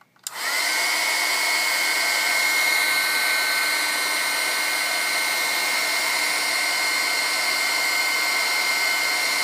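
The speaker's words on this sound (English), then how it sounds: "I'm going to turn on my heat tool" A handheld heat embossing tool, used on a craft card, blows hot air with a steady, loud whirring hiss that starts abruptly and holds constant throughout.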